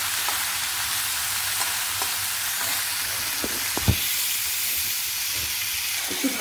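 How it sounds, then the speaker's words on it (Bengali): Ridge gourd frying in a pan sizzles and hisses evenly and close by throughout, with a few faint clicks of stirring. "ঝিঙেগুলো দিয়ে কিছুক্ষণ আমি ভাজবো।"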